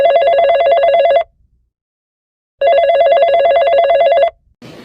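A cartoon telephone rings loudly in two electronic ringing bursts separated by a short silence, with a brief sound right after the second ring.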